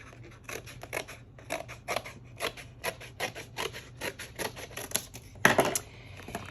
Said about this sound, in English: So we're gonna go around and cut all the edges